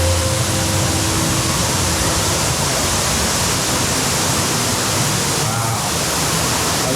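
Waterfall beside the queue line for the Manta roller coaster, a loud, constant rushing roar of falling water filling the whole stretch, close and steady.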